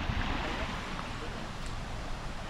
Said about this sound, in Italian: Com'è rilassante il rumore del mare.